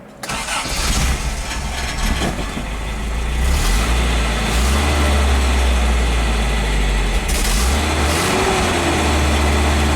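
A 1988 Toyota pickup engine cranks and catches, then settles into a loud, steady idle close by, with no talking.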